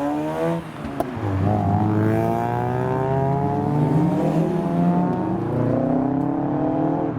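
Two Mazda RX-8s pull away together from a busy car meet, their rotary engines revving loudly and continuously, the sound swelling and shifting as they move off close by.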